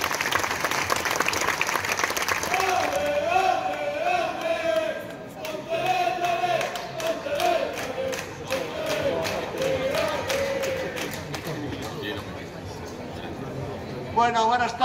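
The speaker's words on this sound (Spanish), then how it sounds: "Un aplauso para Manuel Barreiro." An audience at a Pontevedra football club season presentation applauds for about fifteen seconds, with cheers and crowd chatter in the mix and a voice speaking over the steady clapping.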